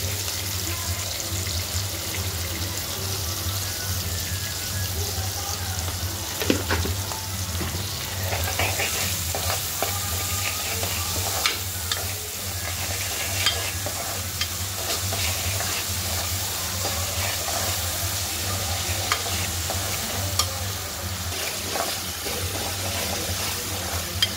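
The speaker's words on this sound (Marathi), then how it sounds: "लसूण लाल झाले की त्यावरती आपल्याला कांदा टाकायचा आहे" Chopped onion tipped onto garlic browned red in a pan with a spoon of salt, cooking for black pea usal; a steady, even sizzle runs throughout, broken by occasional clinks and scrapes of stirring.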